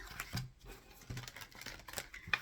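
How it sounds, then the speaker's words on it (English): A deck of tarot cards is shuffled by hand, giving soft papery flicks and riffles in short, irregular bursts, faint and close. "So we'll start by doing some shuffling of the cards."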